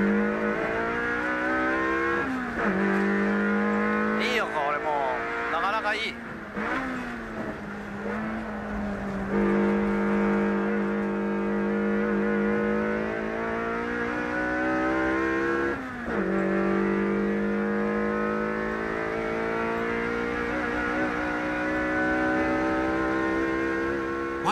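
A Toyota AE86 drift car revs hard on a circuit, its engine note slightly muffled by an induction box, rising and falling through gear changes with steady loud harmonics for the whole stretch; one person briefly speaks.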